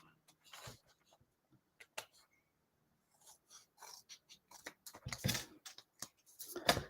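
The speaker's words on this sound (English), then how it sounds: "So I've just cut it off at the side because I didn't want it sticking out" Scissors trim the edge of a blue and white handmade card, quiet snipping and paper rustles in scattered short bursts, close but faint and with no talk.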